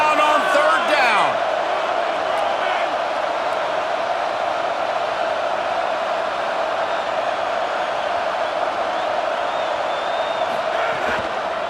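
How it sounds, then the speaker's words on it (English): Stadium crowd at an Oklahoma vs Florida college football game roars loudly and continuously, a dense wall of cheering that holds steady throughout, with a brief whistle-like shout at the start. "This crowd unhinged, trying to make sure the Gators don't back down on 3rd down."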